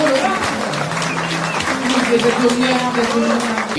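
An audience applauds amid a live gathering, a continuous ripple of clapping heard under a talking voice and other crowd sounds, fairly loud and close throughout.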